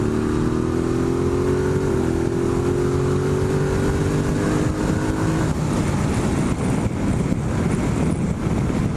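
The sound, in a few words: Ducati Multistrada 1260S motorcycle accelerating in sport mode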